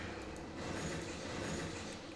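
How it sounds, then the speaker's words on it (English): A train runs through a city-building video game with rail and subway lines, giving a steady, continuous rumble of rolling carriages that holds for the whole stretch with no voices over it. "Left that train stranded."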